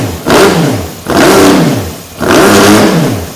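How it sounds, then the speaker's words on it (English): A wrecked Honda sportbike engine revs loudly, rising and falling three times close by with a rough mechanical tone between the pulls. "Now that we have the bike running good,"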